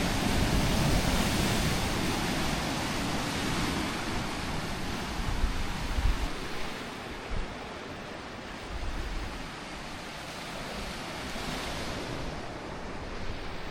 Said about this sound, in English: it's pretty loud out here with these waves